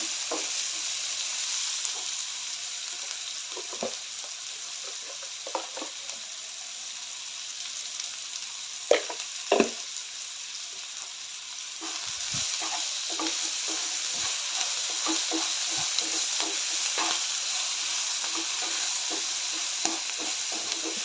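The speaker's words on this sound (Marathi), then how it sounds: "कांदा चांगलं गुलाबी रंग येईपर्यंत परतून घेऊया" Onion sautéing with salt in a pan makes a steady hissing sizzle, punctuated by occasional spatula scrapes and taps, close by. The sizzle swells louder partway through and no one speaks.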